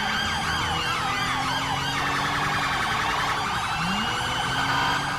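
A police siren from GTA V, set in London, wails continuously and loudly with rising and falling sweeps, layered over steady traffic and engine noise.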